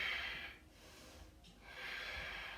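Slow, audible breaths during a yoga arm balance pose: a soft breath out, a short pause, then another breath, faint and close.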